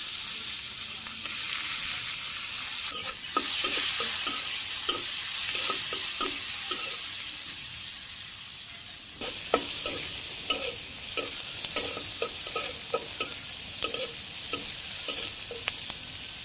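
Chopped onions and green chilies fry in a pan with a steady hiss, while the spatula scrapes and taps in a quick irregular rhythm, loud and close, with no talking.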